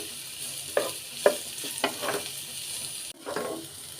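Chopped raw onions sizzle in a pan of flat bean and potato fry, with a spoon scraping and stirring in several distinct strokes over a steady frying hiss.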